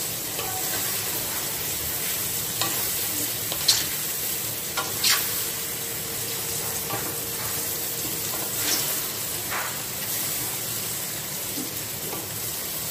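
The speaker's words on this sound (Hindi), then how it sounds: "सारे को डाल देती हूँ इसे कद्दू को मैंने गैस कम कर रखी है" Pumpkin pieces fry in oil over low gas with Kashmiri red chili, sending up a constant loud sizzle broken by several sharp scrapes and knocks of a spoon stirring in the pan, with no voices.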